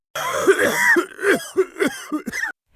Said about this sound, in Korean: 새벽마다 기침을 하기 시작했단다